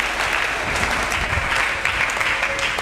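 A church congregation applauds steadily for Jesus during a French-language sermon, with dense, continuous clapping and cheering filling the room throughout.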